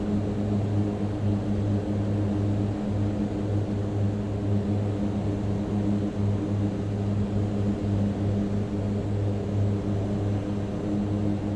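Simulated twin turboprop engines of a Mitsubishi MU-2 in flight drone at a steady loud pitch after the throttle is pushed up. The hum is constant and unbroken, with no voices.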